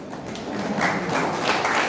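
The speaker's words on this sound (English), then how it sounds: "If you clap loud enough, these children might decide to do grade 6." Applause from an audience for children receiving grade 5 electronic keyboard awards, a steady dense patter of many hands clapping throughout, moderately loud and continuous.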